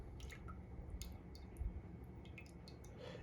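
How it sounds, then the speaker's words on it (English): Lye water poured slowly into a hot-process soap mixture, producing faint close wet squishing and dripping sounds over a low steady background hum. "pour the lye water"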